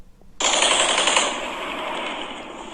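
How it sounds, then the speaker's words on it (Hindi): Gunfire erupts abruptly and loudly during street fighting between soldiers in Kharkiv, Ukraine, a dense sustained burst of rapid shots that rolls on and echoes for over two seconds, with no voices. "गन फाइट खराकीव के अंदर जो हो रही है"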